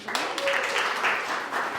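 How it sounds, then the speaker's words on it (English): Audience at a women entrepreneurs' gathering breaks into a short round of applause, steady dense clapping from a nearby crowd with a faint voice briefly audible underneath. "All right, everybody give her a clap, round of applause"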